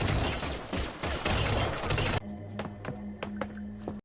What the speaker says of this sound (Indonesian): Di tengah-tengah baku tembak tak seorang pun tiba-tiba muncul dan membunuh beberapa penembak yang mengejar John